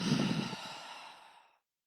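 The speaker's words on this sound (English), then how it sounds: "One more time, inhale and exhale." A single deep yoga exhale, a close, breathy sigh that starts strong and fades out over about a second and a half into silence.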